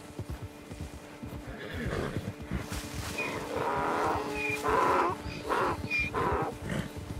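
A standard donkey in the video game Red Dead Redemption 2 brays and neighs in several loud calls over steady hoof clopping, with no voices.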